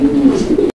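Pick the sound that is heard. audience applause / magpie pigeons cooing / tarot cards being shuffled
magpie pigeons cooing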